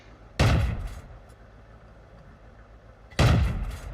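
A World of Tanks tank gun fires two separate heavy shots about three seconds apart, each a sharp loud crack with a decaying rumble, over quiet background hum.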